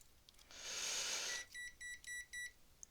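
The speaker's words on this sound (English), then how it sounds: "Beep, beep." Test equipment on a PDP-8/V paddle board workbench gives a long electronic tone, then a rapid series of four or five short, sharp beeps, close and clear with no talk.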